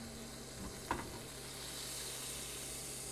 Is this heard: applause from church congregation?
no